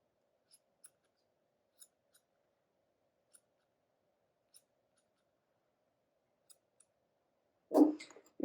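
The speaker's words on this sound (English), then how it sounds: "I really love these Chris Christensen scissors." Chris Christensen grooming scissors trimming a Papillon's feet, a handful of sparse, faint snips spread out over a quiet background, ending in a short louder rustle.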